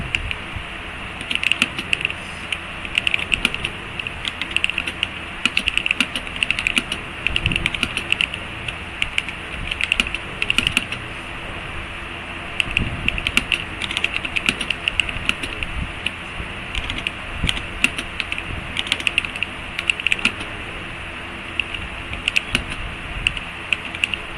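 Quick, irregular clicks of typing on a custom-built 84-key RGB mechanical keyboard, close up and continuous, with short bursts and pauses and no talking over it.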